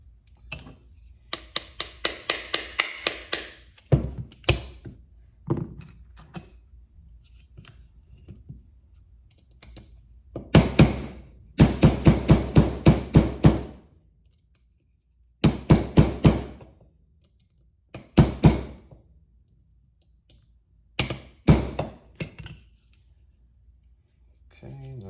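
Tapping the front pin into a Canik TP9SFx pistol frame: clusters of sharp, close metallic taps and clicks come in bursts separated by quiet gaps.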